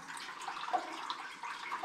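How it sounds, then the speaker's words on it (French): Water cascading over gour pools inside a WW1 German tunnel, a soft continuous splashing trickle, faint and fairly close, with no voices. "Une belle cascade de Gour."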